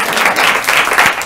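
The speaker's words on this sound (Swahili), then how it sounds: "Wapi makofi ya kila mtu?" A studio audience at a Kenyan talk show claps for just over a second, a dense, lively burst of many hands heard alone and fairly close.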